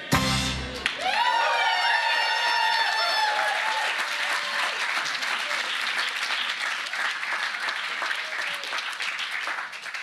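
A theatre crowd breaks into sustained applause after a sung note ends, dense clapping that continues steadily throughout.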